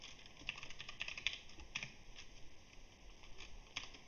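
Code being entered on a computer keyboard, a quiet run of irregular key clicks with a few sharper taps, close and alone with no talk.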